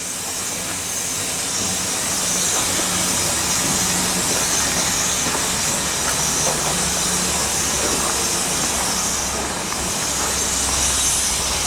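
A five-chime steam train whistle fed by a small boiler at 100 psi sounds as a loud, continuous blast of hissing steam with faint tonal chime notes, sustained throughout with no talking.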